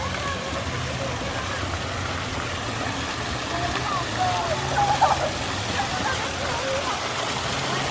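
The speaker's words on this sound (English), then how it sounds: "I like this waterfall." A waterfall at a private beach club in Cancun pours in a steady, dense rush that fills the whole clip, close and even, with faint voices briefly rising above it near the middle.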